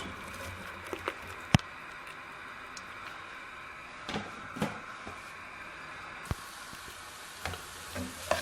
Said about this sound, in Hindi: एक बड़ी खाने वाली चम्मच जो है वो हमने ऑयल ले ली है। अभी हम इसके अंदर डाल देंगे प्याज